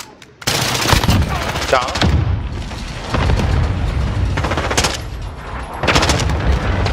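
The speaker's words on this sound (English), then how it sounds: "Cluster strike incoming. Here comes the cluster." Cluster strike in Warzone, a rapid series of loud booming explosions and gunfire bursts in several clusters, with a player's voice briefly speaking amid the blasts.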